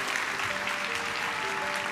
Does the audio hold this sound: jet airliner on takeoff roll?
no